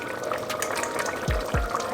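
Water pours into a pot of roasted cauliflower and potato soup, a continuous close splashing gush with two deeper glugs toward the end.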